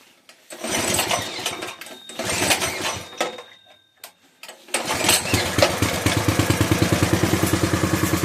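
Coleman minibike engine firing up in uneven bursts that cut out and die twice, then catching and running loud and steady with a fast regular chug; no talking.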